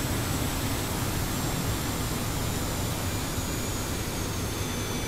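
A Harrier jet lands on a runway in the DCS flight simulator, giving a steady broad jet roar with a faint high engine whine, constant and fairly loud, no talking.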